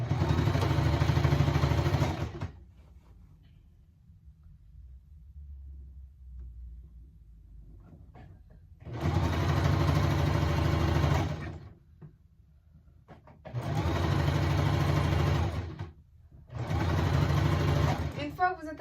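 A sewing machine runs a backstitch along the seam of a roll-up pencil case, three loud mechanical bursts of rapid stitching separated by pauses, close up.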